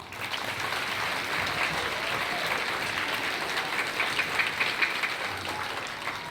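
A school audience at an elementary Veterans Day program claps steadily for the chorus, an even wash of many hands that carries through the whole stretch without a break.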